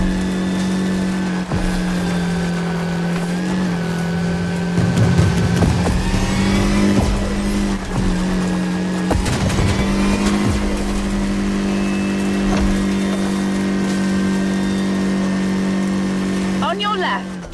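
An Audi car with reworked shock absorbers and chassis drives in The Crew Motorfest, its engine a steady loud drone that revs and surges throughout, with a voice speaking over it.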